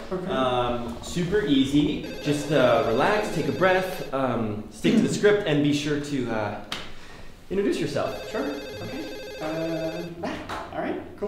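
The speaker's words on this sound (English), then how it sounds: "Oh, that's the phone." A telephone rings intermittently beneath steady conversation in a Barnes & Noble call-centre setting, its tones partly masked by the voices.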